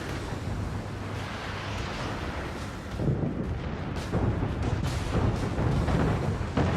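Torpedo hits from a Kaga carrier's aerial drop in World of Warships, heard as a continuous heavy rumble of booming detonations that swells louder partway through, with no talk over it.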